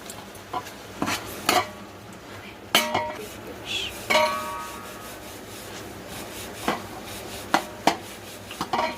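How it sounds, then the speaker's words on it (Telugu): Chicken biryani fries in a pot while a metal spoon stirs it, giving scattered scrapes and clinks against the pot over a low background sizzle, with several sharper knocks. "బాగా ఫ్రై చేయండి. కొంచెం బాగా అప్పుడప్పుడు కలుపుతూ ఉండండి."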